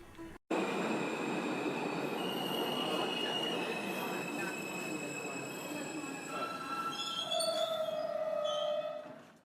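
A train arriving at Kacheguda station rumbles steadily close by, wheels squealing with high sustained tones rising and shifting as it slows, continuous and loud throughout.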